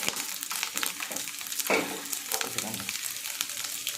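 Garlic cloves frying in sesame oil, a dense continuous sizzle with crackles and the occasional scrape of stirring, close and steady, with no talk.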